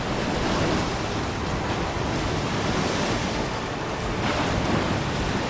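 Rough sea waves churn in a continuous, loud, dense roar of surf mixed with wind rush, with a broad wash that barely rises and falls.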